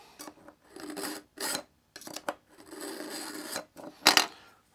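Knife blade drawn through a Smith's 2 Step Knife Sharpener, giving a series of close rasping scrapes in short irregular bursts, with one louder, sharper stroke near the end.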